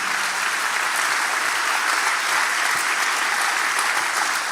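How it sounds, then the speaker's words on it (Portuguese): Steady, dense applause from a church congregation fills the space, loud and even throughout with no break. "você pode aplaudir ela"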